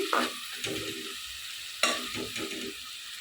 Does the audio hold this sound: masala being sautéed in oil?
yes